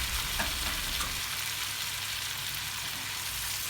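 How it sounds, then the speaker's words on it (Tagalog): Butter, garlic and chili with prawns frying in a pan, a steady close sizzle with a few soft stirring scrapes near the start, no talking. "Halu-haluin po lang po natin para kumapit po yung butter and garlic sa ating prawn."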